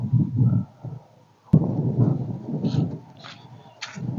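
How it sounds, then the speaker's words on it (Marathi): Deep, loud rolls of thunder rumble as rain arrives over farmland, swelling and fading in waves with a sharp crack midway and no one speaking. "पाऊस तर आलाय"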